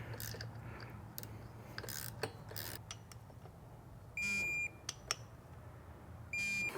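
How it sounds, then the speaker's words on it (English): A torque wrench tightens clutch cover bolts on a 2023 KTM 300 XC dirt bike, giving two sustained electronic beeps over quiet rubbing and faint clicks in a calm workshop. "Then we got our torque wrench."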